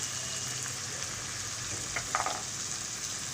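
Ground coriander, cumin and red chilli powders sizzle in hot oil for a prawn kofta curry, producing a steady, close hiss of frying with a brief clatter of stirring midway and no talking.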